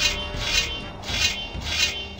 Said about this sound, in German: die schleifen ihre Schwerter